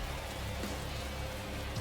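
Heavy blue rain falls in the video game Path to Nowhere, a steady, dense hiss of rain on surfaces filling the whole stretch, with no voices.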